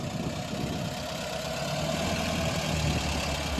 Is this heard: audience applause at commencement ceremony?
no